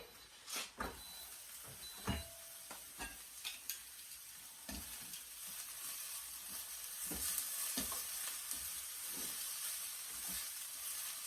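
Food browns in a hot pan with a steady, loud sizzle and hiss for French onion sliders, broken by sharp clicks and scrapes of stirring utensils. No one speaks.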